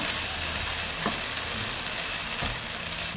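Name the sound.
frying and stirring in a pan for tofu moilee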